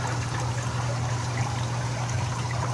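Water trickles steadily down onto the drain and drip tray of a 180-gallon reef aquarium build, a continuous close splashing stream with a low steady hum beneath it.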